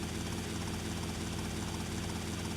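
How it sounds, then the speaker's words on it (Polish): A helicopter in GTA Vice City drones loudly and continuously, with a dense, even rotor and engine roar filling the whole moment and no other sounds. "Helikopter jest niemiłosiernie głośny."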